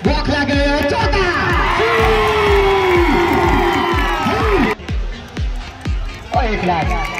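Spectators at a box cricket tournament in Varedia clap in a steady loud rhythm, with a voice shouting and cheering over the crowd before the noise briefly dips and picks up again.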